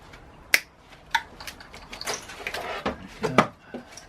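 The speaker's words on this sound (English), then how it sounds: "Let's cut that" A zip tie securing a vacuum line is snipped on a BMW N47/N57 diesel engine during intake manifold removal, with sharp close clicks and snaps from the cutters and plastic, alongside rustling handling noises.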